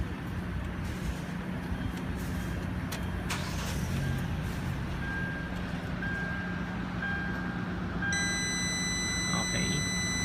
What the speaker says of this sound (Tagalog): First of all, start natin yung engine.